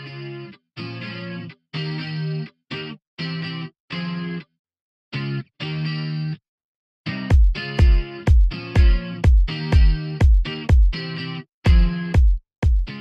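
A slow chorus effect with a reduced rate and increased depth is applied to a musical passage, starting as separated sustained notes and shifting to punchier, rhythmic hits with a gently wavering, widened tone.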